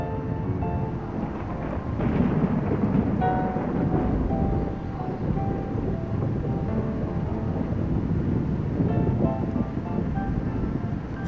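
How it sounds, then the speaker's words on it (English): Deep, continuous rumbling of an approaching summer thunderstorm in the Shikahogh reserve, Armenia, rolling on steadily, a low heavy roar with no talking. "The summer storm is coming up."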